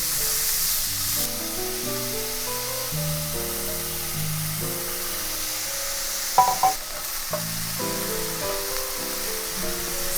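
Marinated beef and cooking wine stir-fry in a wok for Chinese fried rice, a continuous hiss of sizzling under soft background music, with a brief clatter of the spatula midway.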